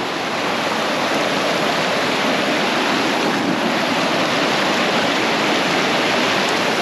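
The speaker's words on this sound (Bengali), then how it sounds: "ঝর্ণার যে আওয়াজ সেটা শুধু দেখুন। আর আমরা আবিষ্কার করলাম একটি ছোট্ট মিনি ঝর্ণা।" A small mini waterfall pouring over rocks in a stream, heard as a loud, steady broadband rush of water that fills the whole clip without any voices.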